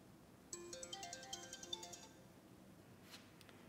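A BM10 mini finger-sized phone plays a ringing tone for an outgoing call, a bright repeating melodic ring lasting about a second and a half, then fading to quiet with a faint blip afterward.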